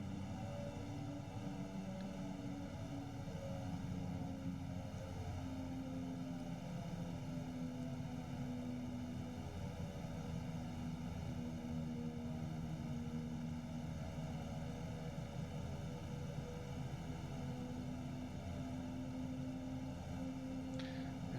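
A propeller aircraft taxiing in X-Plane 11 on an Alaskan bush airfield at Fort Yukon, a steady droning engine hum with even tonal bands held throughout, moderately quiet and unbroken, with no speech.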